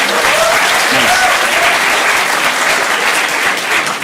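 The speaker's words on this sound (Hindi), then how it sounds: "ये दोनों के लिए एक बार ताली बजा देंगे यार सर।" Audience applause at a stand-up comedy show for a couple in the crowd, a dense, steady wash of clapping that holds at full strength for about four seconds.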